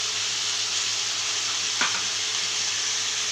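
A paste of tomato, green chili and ginger sautés in a hot pan with a steady, loud hiss and sizzle, broken by one brief clink or stir near the middle.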